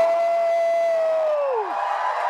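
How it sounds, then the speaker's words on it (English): A crowd at a food and wine festival cheers, whoops and claps together, a loud sustained roar with one long whistling whoop that slides downward near the end. "Clap, clap, stomp your feet, all of it."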